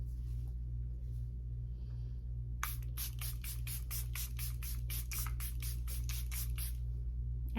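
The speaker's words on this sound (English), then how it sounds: "I want to spray down my face." Charlotte Tilbury Airbrush Setting Spray misted onto a face: after a few quiet seconds, a quick run of about fifteen close, hissing pump sprays follows in rapid, even succession.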